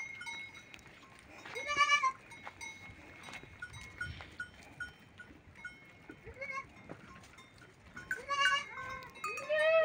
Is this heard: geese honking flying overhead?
no